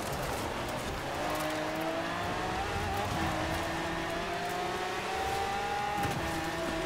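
A Noble car in Forza Horizon 4 on Fortune Island accelerating steadily, its engine note rising through gears with repeated upward-sweeping tones, loud and close with a rushing road noise beneath.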